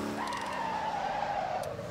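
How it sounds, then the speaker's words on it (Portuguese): Tires squeal steadily as a 4x4 twin-turbo 1000cc pickup skids under the handbrake in the driving game Motor Town, a sustained close screech with engine drone beneath, no talking. "Vou puxar até o freio de mão aqui, ó."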